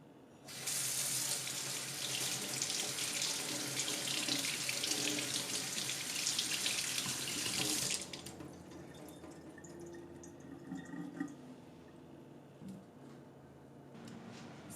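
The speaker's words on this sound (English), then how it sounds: "So first I gotta wash up the fruit" Water pours from a kitchen faucet while fruit is washed, a loud steady hiss for several seconds before the tap shuts off, leaving faint drips and quiet handling sounds.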